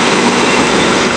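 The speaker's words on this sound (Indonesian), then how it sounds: "Kereta api Kertajaya Surabaya Pasar Turi Pasar Senen" Kertajaya passenger train from Surabaya Pasar Turi to Pasar Senen running past the west end of Cikarang station, a loud, steady roar of rolling wagons with faint clatter and no voices.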